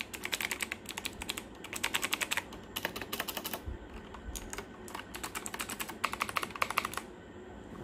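Fingers type on a TKL mechanical keyboard with blue switches, crisp clicky keystrokes in rapid bursts with short pauses, close and clear.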